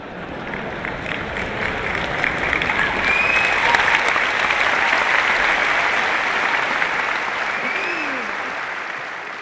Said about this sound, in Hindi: बेटे ताली बजा रहे हैं लेकिन पिताजी नहीं